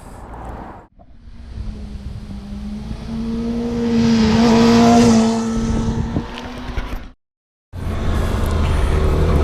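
A 2019 Yamaha R6 600cc sport bike rises in pitch as it accelerates, engine note building to a loud peak before briefly cutting out and coming back, heard alone with steady rushing wind.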